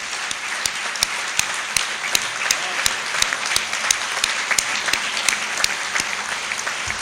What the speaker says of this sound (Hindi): इसलिए सुशील भाई खड़े होइए और इनका उत्साह बढ़ाओ तालियों के साथ।